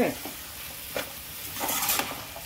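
Dried prawns and radish fry in a pan, giving a quiet sizzle broken by a few short stirring scrapes, with no talking.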